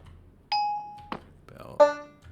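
A bright bell tone rings out in the StoneBlock 4 dance puzzle, a video game, sounding as a sustained ding, then a short hit and a second, richer chime near the end, moderately loud with no talk.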